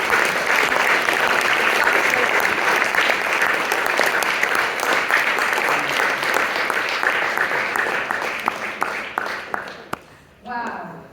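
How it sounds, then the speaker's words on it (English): Sustained applause from a school audience after a student debate, loud and even for several seconds before tapering off, with a voice briefly speaking at the end. "Let's get a round of applause for those."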